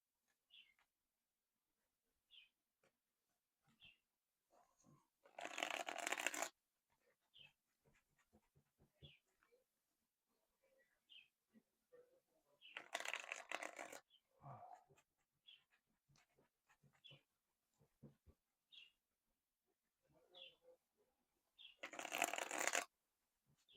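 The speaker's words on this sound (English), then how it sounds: "So let me shuffle these cards up." A Rider-Waite tarot deck of small cards is riffled in three quick, rustling bursts, separated by quiet pauses with small taps and clicks of cards being handled.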